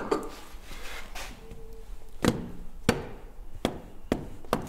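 Several sharp, separate taps from a soft hammer on a 1914 Indy 500 10-litre race car part with an O-ring, irregularly spaced, with quiet background noise between strikes.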